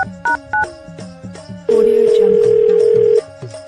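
A telephone is dialled at close range: a series of short keypad tones and clicks is followed by a loud, steady ringback tone that lasts about a second and a half.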